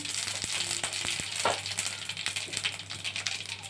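Mustard seeds, cumin and dal sputtering in hot oil for an ivy gourd fry, a steady close sizzle broken by a few sharp pops and crackles, with no talking.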